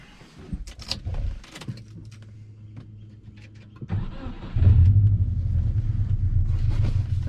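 A Subaru Forester with a custom exhaust cranks, fires up after some clunks and fumbling with keys, then settles into a loud, deep, steady rumbling idle heard close up.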